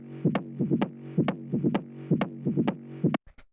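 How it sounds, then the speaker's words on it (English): A crunchy, distorted techno loop in a rolling rumble bass groove pulses in a repeating, throbbing rhythm of gritty low hits with buzzy overtones, looping about three times before stopping, followed by a few short clicks. "And then this distortion loop here."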